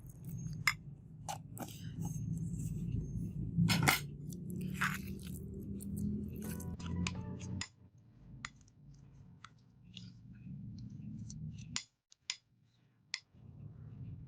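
A spoon mixing grated apple with a tablespoon of honey for a face mask, producing soft wet squelching and scattered sharp clicks of metal against the bowl, close and quiet, with pauses.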